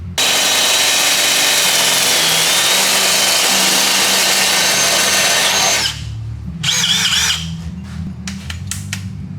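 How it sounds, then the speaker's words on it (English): A hole saw on a power drill cutting holes in steel exhaust pipe for a turbocharged 350Z. The grinding cut is loud, steady and close for several seconds, then stops, and there are a couple of short bursts afterward. "I'm gonna go ahead and cut some holes in this with a hole saw and then start welding them on."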